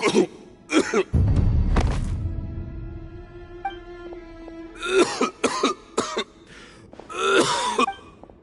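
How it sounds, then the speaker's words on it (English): A male game character coughs repeatedly in Genshin Impact, several harsh bursts with throat clearing and gasps, close and fairly loud, between stretches of musical game score. "Why is he coughing so much?"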